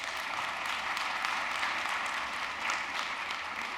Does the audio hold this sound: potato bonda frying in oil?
no